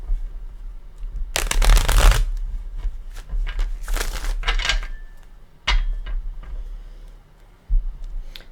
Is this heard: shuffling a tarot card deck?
yes